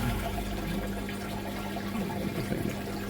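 Water rushes steadily through a pond filter pipe into an overflow bin, a continuous close gushing and splashing without pause.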